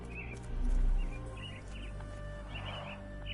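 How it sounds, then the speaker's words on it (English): Caged myna birds chirp and whistle in short, scattered calls over a steady low ambient hum, with a brief rumble early on; the calls are fairly faint and spaced out, with no speech. "Minor birds, if I'm not mistaken. Beautiful creatures. Sad that they're caged here."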